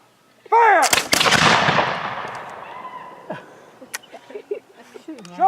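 A loud musket volley from historical re-enactors at an outdoor Declaration of Independence reading bursts as one ragged crack and rolls away in a long echo, followed by scattered faint voices and crowd murmur.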